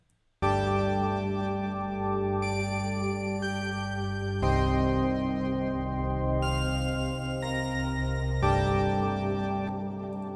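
Keyboard pads from a beat playing alone, thick sustained chords with deep low end that shift every couple of seconds, smooth and continuous at an even level.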